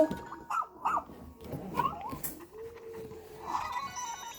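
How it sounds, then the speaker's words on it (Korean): A dog-like creature in the Pikmin video game lets out a series of short, faint yips and barks, spaced unevenly over a soft in-game background. "저 강아지는 뭐지?"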